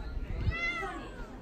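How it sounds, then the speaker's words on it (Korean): A cat gives a single close, clear meow that rises and falls, with soft human talk around it, during an autumn family trip on Jeju Island, Korea. "고양아. 야옹아, 너 혼자야? 친구 없어?"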